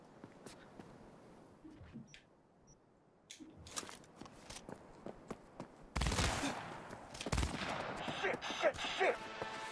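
Gunfire in Cyberpunk 2077, including shotgun blasts, with scattered sharp shots and footsteps at first, then a loud, dense burst of rapid firing and impacts, with a voice speaking at times.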